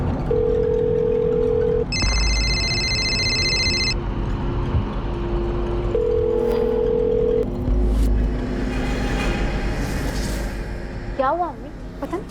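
A phone call that goes unanswered sounds its ringback tone in a Hindi crime drama scene. The steady electronic tones repeat in spaced bursts over a constant low rumble, with a brighter chiming tone partway through and voices talking.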